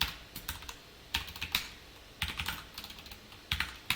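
Computer keyboard typing SQL code for a MariaDB database lesson, with quick uneven bursts of close key clicks separated by short pauses.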